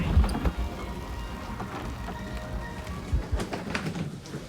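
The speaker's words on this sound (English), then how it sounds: "It looks like it's started raining quite a bit there at the top of the track" Rain falls at the top of a luge track in Oberhof, Germany: a soft patter of drops with a few louder taps and faint bird calls, low and diffuse, with no talk.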